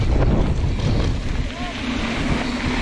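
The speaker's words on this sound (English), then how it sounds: "A lot of wind, eh?" Strong wind buffets a sailing boat at sea, a loud continuous roar of gusts across the microphone with water rushing beneath, steady and close for the whole stretch.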